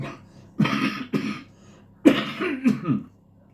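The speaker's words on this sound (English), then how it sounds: "I really thought I'd get through this without having another cough." Two separate bouts of coughing, each a pair of rough, throaty coughs, close and fairly loud, with quiet pauses between.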